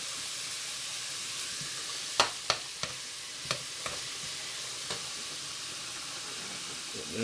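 Spaghetti meat sauce cooking down in a pot, giving a steady hissing simmer with a few scattered pops and light clicks, close and moderately quiet, with no voices.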